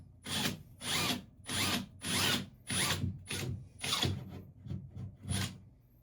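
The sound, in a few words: drilling a hole in wall with drill bit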